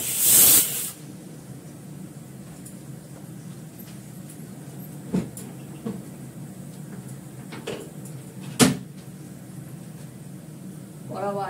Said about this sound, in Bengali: এবার আমি বেগুনটা ভাজবো